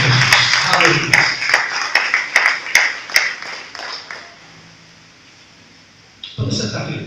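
Church congregation clapping during a worship service, a run of sharp hand claps that fades out into near silence before a voice returns at the end.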